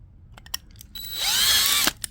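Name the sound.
power drill drilling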